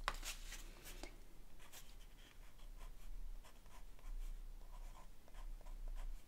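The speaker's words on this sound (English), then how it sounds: "So I'm gonna write up here." A pen scratches ink lettering onto paper in quick, faint strokes and short scribbles, close up over a low background hum, with no voices.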